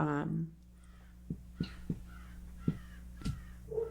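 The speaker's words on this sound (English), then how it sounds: "You guys hear that too? the bird. It's a bird." A crow caws several times at irregular intervals, faint and somewhat distant, with brief talking at the start and end.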